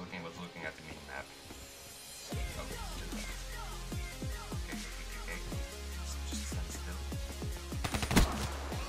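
Rapid gunfire from a Call of Duty Black Ops 3 gun game match crackles in dense bursts of sharp shots, growing busier and louder toward the end, with clicking mechanical game sounds mixed in.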